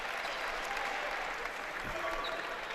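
High school basketball crowd at the All-A Classic applauding after a made free throw, a steady wash of clapping and cheering that holds for nearly three seconds.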